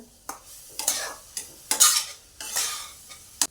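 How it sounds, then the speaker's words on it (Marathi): Mango sheera in ghee is stirred in a pan in about six separate scraping strokes, each a bright rasp over a faint sizzle, with no voices. "आपण हे सगळं एकत्र मिक्स करून घेऊया"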